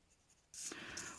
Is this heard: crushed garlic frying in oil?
no